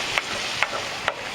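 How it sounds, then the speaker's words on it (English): Minced small yellow onion sizzles softly in oil with a low, steady hiss, broken by three brief scraping strokes of a spoon stirring the pan. "in the oil I'm going to add this is a small yellow onion that I've minced up."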